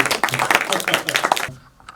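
Audience applause at a live stage event, a dense burst of many hands clapping loudly for about a second and a half, then cutting off abruptly to near quiet.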